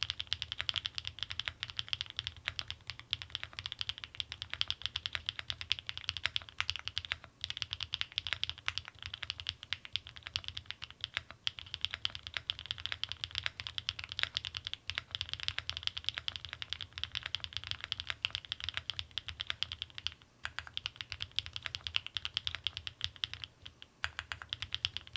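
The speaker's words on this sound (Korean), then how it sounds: "그러면은 바로 타건해 보도록 하겠습니다" Continuous, brisk typing on a ChosFox CF81 custom mechanical keyboard with Kinetic Labs Candy Vanilla switches and GMK keycaps, dense clacky keystrokes close up with no talking.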